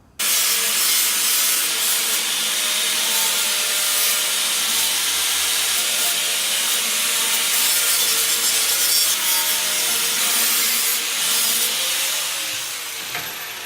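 An angle grinder grinds clamped metal table legs flat, a loud, steady abrasive roar with hissing, scraping texture that runs continuously and close up for the whole stretch.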